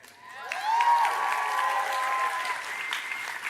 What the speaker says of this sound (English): you all start cheering